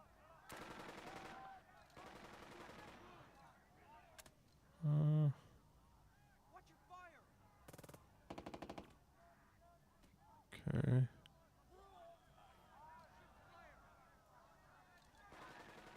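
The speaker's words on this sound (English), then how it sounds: "MG here will do some suppression, hopefully, to some of these bad guys out in the open." Machine gun bursts of suppressive fire in the war game Burden of Command, a few short loud rattling bursts spaced apart over quiet background, with someone talking between them.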